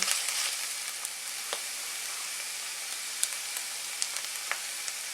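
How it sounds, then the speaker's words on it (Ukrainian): Oyster mushrooms sizzle steadily in a hot pan, a soft continuous frying hiss with occasional small pops and no voices. "Перемішуємо та смажимо приблизно 5 хвилин."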